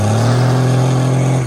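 A lifted dually truck on a 40-inch lift with air bags revs loudly while doing donuts, its deep engine drone holding steady and close for the whole burst before easing off at the end.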